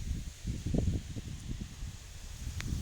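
Wind buffets the microphone in low, uneven gusts, a steady rumbling roar with a brief faint rustle near the end.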